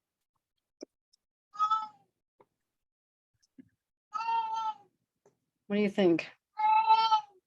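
A kitty in a home kitchen meows three times, each a drawn-out, clear call spaced a couple of seconds apart, with a short spoken question from a person between the last two and quiet gaps otherwise.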